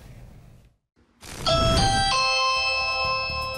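A loud two-tone doorbell chime rings clearly, its bright tones lingering and slowly fading.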